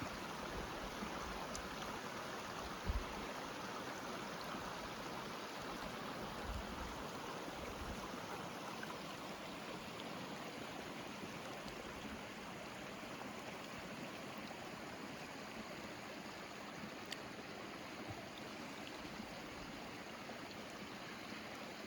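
A creek runs steadily downhill beside the Sierra Cascade Trail, with a continuous broadband rush of flowing water heard alone and at moderate distance, a few faint knocks near the start.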